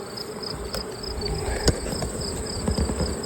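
Honey bees buzzing over the top of a hive during a honeyflow, a steady close insect drone with many overlapping wingbeats and small taps from handling the hive.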